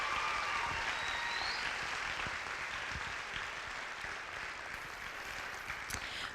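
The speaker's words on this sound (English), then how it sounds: "give them one more large round of applause for being such great ambassadors of our city" An audience applauds the city's ambassadors at a coronation event, steady dense clapping that holds throughout and fades slightly toward the end.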